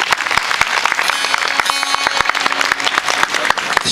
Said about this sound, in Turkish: Onlar için kocaman bir alkış alabilir miyiz?